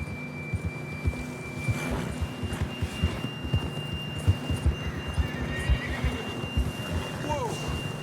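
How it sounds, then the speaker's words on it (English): A horse in Red Dead Redemption 2 clip-clops in a steady hoof rhythm with a whinny near the end, set against a low hum and faint talk. "John was riding that horse when we left Blackwater"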